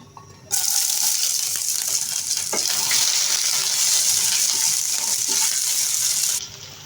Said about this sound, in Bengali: সয়াবিন তেল দিয়ে দেব, এখানে রসুন, পেঁয়াজ, কাঁচামরিচ টেলে নেব আগে।